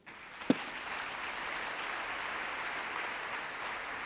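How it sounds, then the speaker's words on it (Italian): Sustained audience applause fills the hall after a tribute during a church pastoral-letter event, with a single sharp clap at the start, then dense, even clapping continuing steadily throughout at moderate loudness. "Merita un applauso Domenico."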